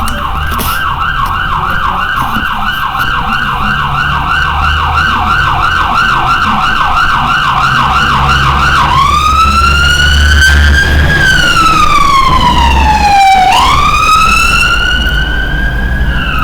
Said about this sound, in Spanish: pasó la ambulancia